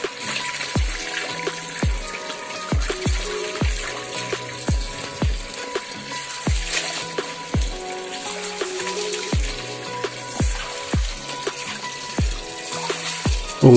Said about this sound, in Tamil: ஸோ தண்ணி விட்டு நல்லா அலசி க்ளீன் பண்ணிடுங்க.